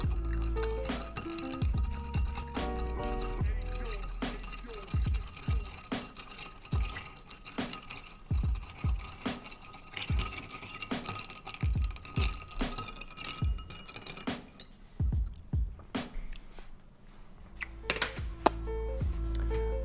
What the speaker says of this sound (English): So give it a stir for 30, 40 seconds.